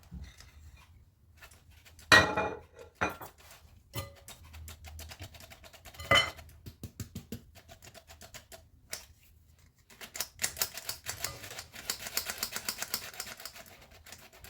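A spoon or whisk scrapes and clinks against a bowl while flour is mixed into eggs for apple pie batter, irregular taps and rattles with a burst of quicker clinking near the end, no talking.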